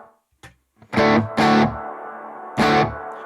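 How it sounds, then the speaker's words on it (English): Electric guitar through a BOSS GT amp modelling a Matchless DC30, with a simple warm hall reverb: a few loud distorted chord stabs, each ringing out with a smooth decaying tail. "we have down here the reverb, which is a simple hall"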